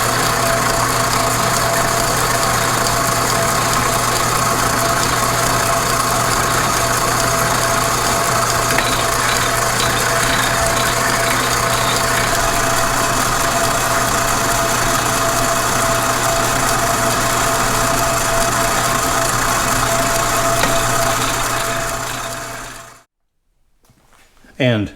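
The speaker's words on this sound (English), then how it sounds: "cutting some threads on the mandrel" A lathe cuts threads on a steel mandrel, giving a loud, steady machine drone with a constant hum that runs unbroken for over twenty seconds before cutting off abruptly near the end.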